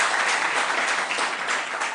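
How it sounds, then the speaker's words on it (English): An audience at a school quiz competition applauds the Junior Sharks quiz team, with thick, continuous clapping that stays loud and even throughout and no talk over it. "Round of applause for them, please."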